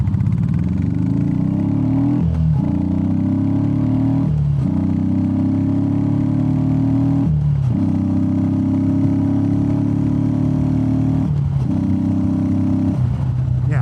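Royal Enfield Meteor 350 motorcycle engine fitted with a DNA air filter, a deep, throaty roar heard up close that rises through several gears, with brief dips at each shift.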